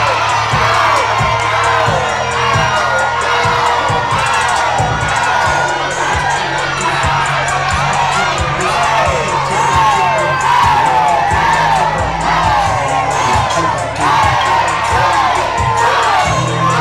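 Wedding guests cheer for the newlyweds in a loud, sustained crowd roar of whoops, shouts and high excited voices, with clapping and bangs mixed through nearly seventeen seconds.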